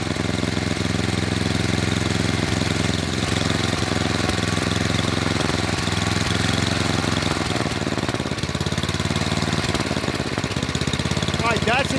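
An 11hp Tecumseh engine on a snowblower idles steadily close by, a loud, even mechanical chug with a slight knocking rhythm running unbroken from start to finish.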